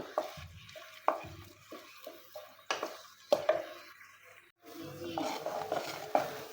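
Hibiscus flowers, rose petals and henna leaves fry gently in oil over a low flame for homemade hair oil, with a soft sizzle under repeated close stirring clinks and scrapes of a utensil against the pan.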